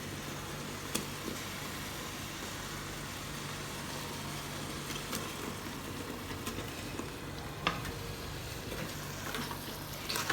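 Fried tofu being stirred into chilli sambal in a pan over high heat produces an even, moderate sizzle throughout, with a few sharp clicks and scrapes from the stirring.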